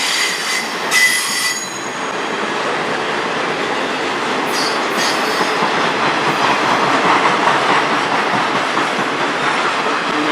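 A slow train rolls past at close range with a steady rumble and rattle of cars, plus brief high wheel squeals early on.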